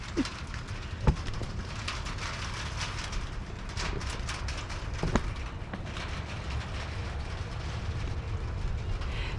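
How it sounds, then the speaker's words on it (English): Steady, dense patter of rain drumming on a tin roof of a mobile home, continuous and fairly even, with a few sharper taps standing out. "Don't you just love rain on a tin roof?"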